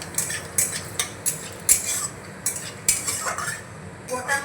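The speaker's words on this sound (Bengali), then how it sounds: "গোটা মশলাগুলো ভেজে নিয়েছি।" Whole spices (cloves, bay leaf and cumin) fry in oil in a pan, with crisp sizzling bursts and repeated clinks of a spoon stirring against the metal.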